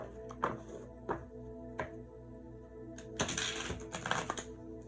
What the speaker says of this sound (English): We're gonna shuffle this one time.